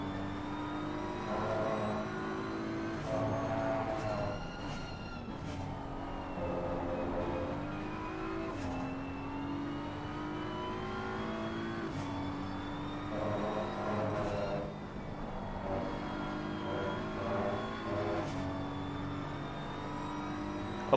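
Onboard with a BMW race car at Laguna Seca during a four-hour endurance race, the engine revs up and drops repeatedly through gear changes and corners, loud and continuous with no talk.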